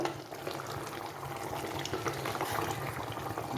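Chicken curry bubbling in a pot on the stove, a steady close bubbling and simmering texture throughout with no talking.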